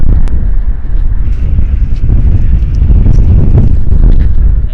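Strong windstorm gusts buffet the microphone outdoors with a loud, constant low roar and rumbling thumps that rise and fall throughout, with no talking.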